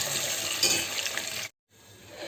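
Talimpu tempering for rasam sizzles steadily in a hot pan, a bright crackling hiss that holds for about a second and a half, cuts out briefly, then resumes.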